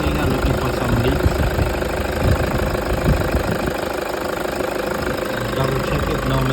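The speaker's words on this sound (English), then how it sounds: "After priming, it's up and running." A 2008 Toyota Hilux with a 1KD diesel engine idles after a fuel filter change, a steady close rumble with a rapid knocking clatter running evenly the whole time, with no voices.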